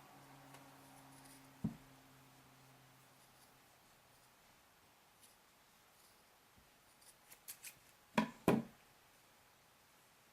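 Scissors trim plush fabric around the fingertips of a sewn plushie hand, faint scattered snips in a quiet room with a few sharper cuts clustered near the end.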